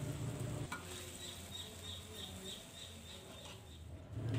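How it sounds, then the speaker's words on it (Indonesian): Pak choy with scrambled egg and spring onion stir-fried in a pan, a steady close sizzle with stirring and scraping throughout, slightly louder at the start and end. "yang terakhir saya cemplungkan bawang prenya, kemudian saya aduk-aduk kembali"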